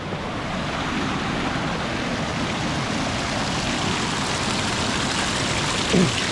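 Cool water flows steadily over slippery rocks in a steady broadband rush, close and continuous, with a brief splash near the end.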